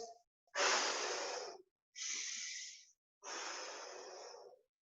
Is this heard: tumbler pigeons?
no